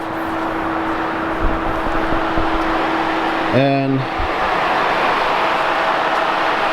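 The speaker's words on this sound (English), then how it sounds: "It's a pretty noisy engine in general" A Volkswagen Golf Mk1 with an all-wheel-drive 4Motion conversion drives along, its engine giving a loud, steady cabin drone with a brief tonal whine partway through, and a voice speaks briefly.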